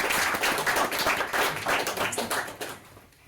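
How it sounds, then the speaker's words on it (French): An audience applauds steadily after a piano recital, many hands clapping in a dense patter that fades toward the end. "je crois qu'on peut applaudir nos artistes."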